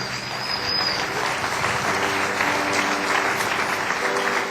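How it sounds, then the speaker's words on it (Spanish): A church congregation applauds loudly and continuously, a dense close wash of clapping hands that holds steady throughout, with a few voices faintly mixed in. "Dele un aplauso fuerte al Señor"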